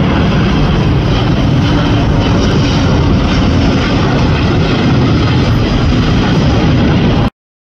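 A British Airways heavy jet airliner at Los Angeles International Airport gives off a loud, dense, unbroken engine roar close by that cuts off abruptly near the end.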